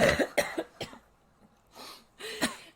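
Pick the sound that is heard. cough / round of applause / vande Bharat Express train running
cough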